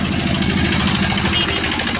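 Motor van rickshaw engine idling outdoors on a morning street, a steady, close, throbbing mechanical drone with a faint rattling pulse and no talking.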